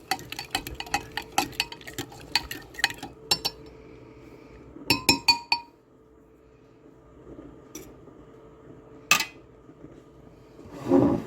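A utensil stirring seasoning into food, a quick run of rhythmic metallic clinks and taps against a dish, close and crisp, then a pause with a few scattered clinks and a final scrape, no talking.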